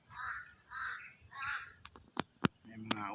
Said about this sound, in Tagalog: May mga uwak.